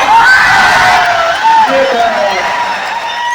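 Large crowd of over ten thousand cheering, whooping and whistling in a Delhi stadium at a company success-day rally, with sharp whistle tones rising above a dense, steady roar throughout.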